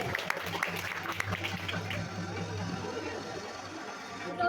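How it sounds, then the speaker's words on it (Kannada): A burst of clapping from a group at a college freshers' day event, strongest at the start and tapering off, with voices and a low hum underneath. "ಎಸ್ ಬನ್ನಿ ಚಪ್ಪಾಳೆ"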